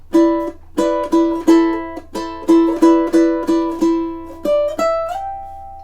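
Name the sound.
ukulele playing measures 3-4 of a song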